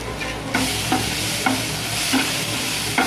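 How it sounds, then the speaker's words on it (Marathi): Ground spices and turmeric sauté in a pan for a Mumbai-style vada pav filling, with a steady sizzle and a spoon scraping the pan in regular strokes about every half second, close and fairly loud. "याला परतून घ्यायचा आहे म्हणजे आपल्या मसाल्याचा स्वाद आहे ना कच्चा नको लागेल"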